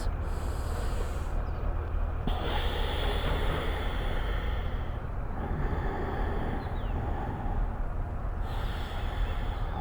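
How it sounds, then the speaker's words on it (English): Deep breaths drawn in and pushed out through the nose during a Kundalini yoga class, each long airy inhale and exhale rushing loudly in a slow, even cycle, with no voices over them. "Inhale and exhale."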